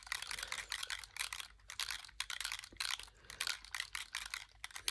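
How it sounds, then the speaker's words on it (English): A paint spray bottle is shaken side to side, its small agitator ball rattling in rapid, dense bursts of close, bright clatter that come in repeated waves, with no talking. "You can probably hear the little shaker thingamajig in the bottom."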